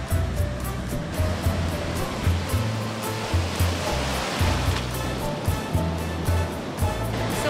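Ocean surf rolling onto Zipolite beach in Oaxaca, Mexico, a continuous loud wash of breaking waves with a steady low rumble and hiss.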